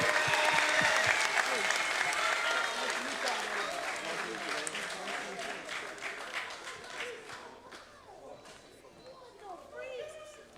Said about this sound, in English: Clap it up for them